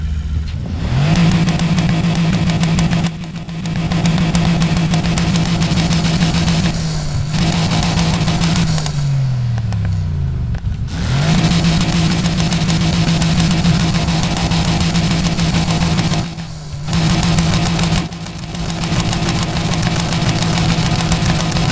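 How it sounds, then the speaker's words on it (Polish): A video game Mercedes GT V8 4.0 car engine drones loudly and steadily, its pitch rising and falling through several revs, with brief dips where the engine note drops away. "Nie podoba mi się dźwięk tego samochodu, naprawdę."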